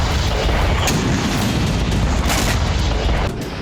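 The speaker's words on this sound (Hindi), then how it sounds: "डोनेस्क में रूसी Su-25 फाइटर जेट ने इस तरह से मिसाइलों की बरसात की।" Missiles fired from a Russian Su-25 fighter jet strike in Donetsk, a loud, dense roar of rumbling blasts with several sharper booms punching through, easing slightly at the end.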